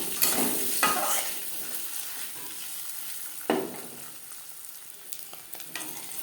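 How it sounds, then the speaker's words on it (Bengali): Duck eggs fry in hot oil with a steady sizzle, punctuated by a few sharp spatula scrapes and clinks against the pan, without any voices. "ডিম ভেজে নেওয়া হয়ে গেছে"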